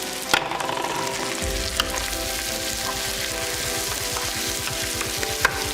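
Spinach steams and sizzles in a covered pan while being cooked down for scrambled eggs, giving a steady close frying hiss with a few faint clinks and no talking.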